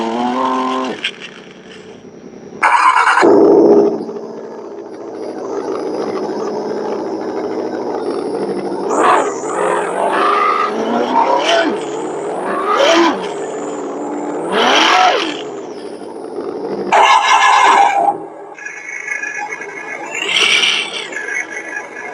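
RC sound module on a YK 4107 model vehicle playing a synthesized diesel engine sound, a loud, steady electronic rumble broken by repeated revving swells and brief horn-like bursts over about twenty seconds.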